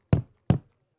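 Two footstep effects from a horror puzzle video game, sharp close thuds spaced evenly apart, each with a short dull decay, clean and alone.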